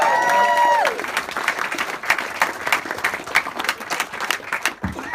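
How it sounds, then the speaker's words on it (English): Wedding guests clapping for the bridesmaids during a best man's speech at a reception: a brief voice starts it, then lively, uneven applause with some cheering follows, fairly close. "So please, let's have another round of applause for the bridesmaids."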